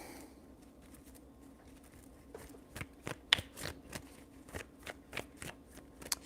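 Tarot cards shuffled by hand, a soft riffling start followed by a run of sharp, close flicks and slaps in an irregular rhythm over faint room hum.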